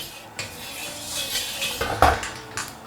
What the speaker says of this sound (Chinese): 给点油把锅润一下